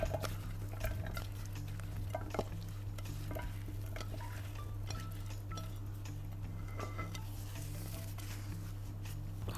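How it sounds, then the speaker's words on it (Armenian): Vegetables with onions being stirred and fried in a pan, a steady low sizzle under scattered scraping and ticking of the utensil against the pan, close and continuous without talk. "Տեղափոխեմ, որպես ավելի հանգիստ խառնենք եւ եփենք"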